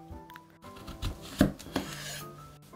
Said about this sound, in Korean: 약간 도톰하게 썰어주세요